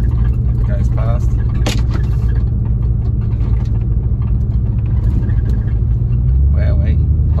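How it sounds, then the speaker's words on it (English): A police car drives past on a road, its engine rumble steady and close throughout, with a brief rising tone near the start and again toward the end. "I'll just pull up the talking for a second while the cop car goes past."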